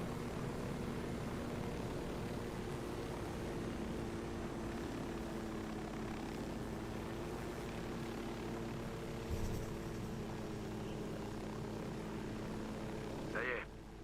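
Helicopter in Ghost Recon Wildlands flying steadily, a loud sustained engine drone and rotor hum with a constant noisy wash throughout and a brief thump near the end.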